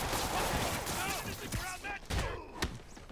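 Rapid bursts of gunfire from Spider-Man PS4 crackle and thump in a busy combat scene, several shots clustered together with impacts and whooshing effects, while someone talks over the action.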